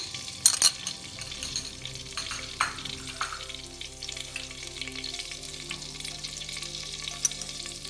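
Garlic, ginger and a soaked dry spice mix sizzle steadily in hot oil for a tangy raw-mango daal, with a few sharp clinks of stirring near the start and a continuous frying hiss throughout.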